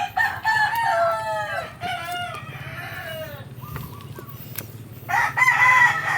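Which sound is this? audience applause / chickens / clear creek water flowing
chickens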